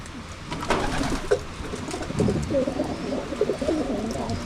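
A pigeon coos repeatedly in low, throaty bursts close by, with faint background noise and a few light knocks.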